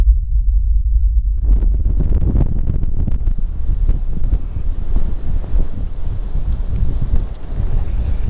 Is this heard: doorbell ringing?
no